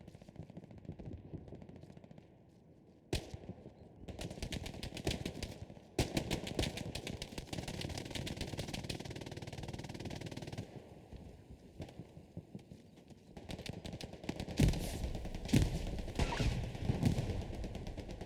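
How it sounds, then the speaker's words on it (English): A 76 tank fires HE rounds amid a Hell Let Loose battle: sharp, loud cannon blasts and repeated gunfire cracks punctuate a steady background hum, with clusters of shots near and far and no talking. "You can see the shots already coming in from the 76."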